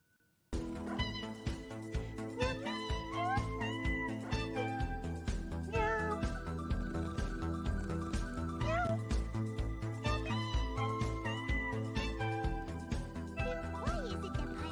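Several kittens mew and meow in a cute triggered stream sound effect, high chirpy cries repeating over a steady bed of background music.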